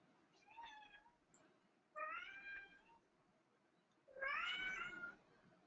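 A cat meows three times, each a drawn-out, rising-then-falling cry, the last one loudest, over a faint quiet background.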